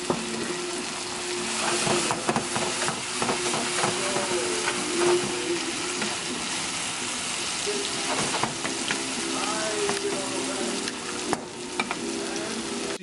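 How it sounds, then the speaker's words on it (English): Sliced white mushrooms sizzle steadily in a hot pan, a close, continuous frying hiss with small crackles and occasional stirring scrapes, no voices. "I'm also going to throw a few sliced mushrooms in."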